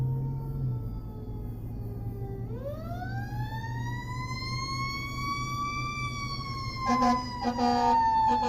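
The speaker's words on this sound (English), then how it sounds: "Oh, here comes the fire truck." A fire truck siren rises and wails steadily as the engine approaches, loud over low traffic rumble, with brief bursts of horn or air-horn blasts near the end.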